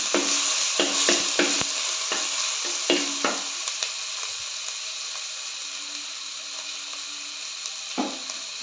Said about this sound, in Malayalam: നമുക്കിത് വഴറ്റി കൊടുക്കാം നല്ലോണം ഇളക്കി കൊടുക്കണം